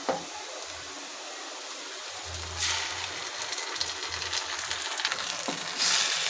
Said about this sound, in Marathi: हे मिश्रण सगळं घालून मी छान परतून घेत आहे